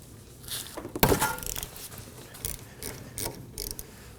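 A ratchet and socket break loose a 12mm banjo bolt on the rear brake hose of a 2015-2023 Nissan Maxima, giving a few close clicks and a sharp thunk amid metallic handling noises.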